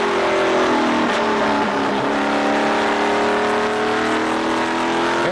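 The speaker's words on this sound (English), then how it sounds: "And let's have a listen to his truck." A race truck engine in a Speed Truck series finale at Las Vegas, heard from inside the cab: a loud, continuous roar that climbs steadily in pitch as it revs through a gear, with no talk.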